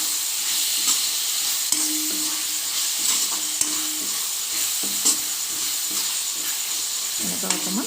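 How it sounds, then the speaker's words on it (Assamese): Chicken and chopped tora stalks fry in a hot pan, a constant sizzle and hiss with short scraping stirs and clinks of the spoon against the pan. "এতিয়া আকৌ লৰাই দিছোঁ।"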